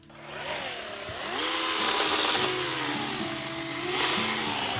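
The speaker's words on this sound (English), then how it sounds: "we're going to buck these into firewood size chunks now" A small, high-torque chainsaw bucks logs into firewood-size chunks outdoors, its engine droning steadily with pitch rising and falling as it bites into the wood, close and loud.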